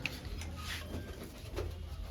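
Soft, low pigeon coos rise over a steady background hiss, faint and somewhat distant.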